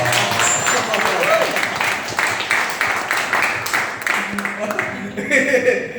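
Audience at a motivational training event breaks into sustained applause, a steady wash of many hands clapping that holds for several seconds at fair loudness, with speech faintly mixed in.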